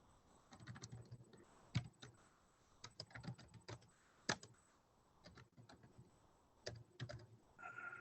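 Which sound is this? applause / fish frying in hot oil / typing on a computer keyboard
typing on a computer keyboard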